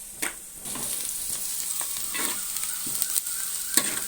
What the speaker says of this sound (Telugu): ఇవి లైట్ గోల్డ్ కలర్ వచ్చేదాకా ఫ్రై చేసుకోవాలి.